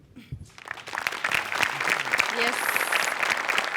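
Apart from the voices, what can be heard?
loud applause from studio audience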